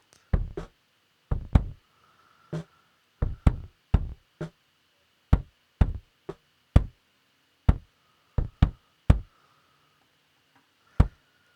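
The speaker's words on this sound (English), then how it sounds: "the snare is still coming through" Snare drum hits gated by a noise gate, sounding as sharp isolated cracks in an uneven rhythm with silent gaps between them, about twenty strikes over eleven seconds, with no ringing tail.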